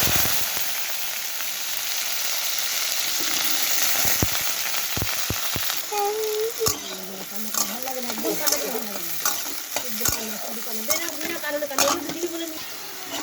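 Green beans and carrots fry in a pan for a vegetable dal, a steady, close sizzle. Halfway through, sharp stirring clatters begin, with faint melodic sounds behind them.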